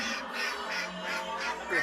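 Ducks quack repeatedly in a noisy outdoor setting, the calls overlapping with faint background chatter.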